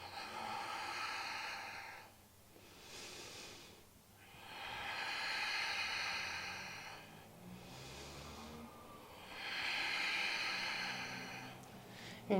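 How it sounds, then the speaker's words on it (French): Slow, deep nasal breathing during a yoga session, with long hissing inhales and exhales alternating in a steady rhythm of about three breath cycles, close and quiet, with no talking. "De profondes respirations par le nez."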